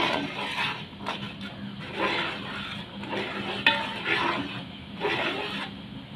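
A village-style river fish curry gravy boils in a cooking pot, bubbling and sizzling steadily while a utensil scrapes and stirs in periodic strokes, close and moderately loud.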